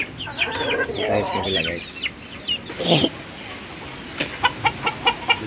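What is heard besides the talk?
chickens clucking, hen with chicks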